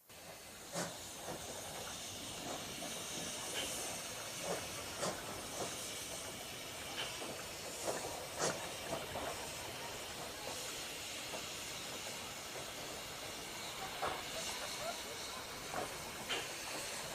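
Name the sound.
J27 steam locomotive moving toward the coaling stage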